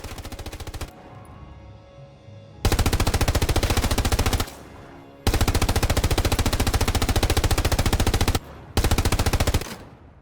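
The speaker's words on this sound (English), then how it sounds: "we will be hit firing the freaking MG34." MG34 machine gun in the World War II shooter Hell Let Loose, firing three long sustained bursts of rapid, evenly spaced shots, loud and close, with short gaps of echoing tail between them.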